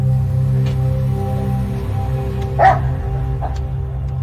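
A dog barks inside a house during a police operation, giving one or two muffled barks partway through over a steady low hum.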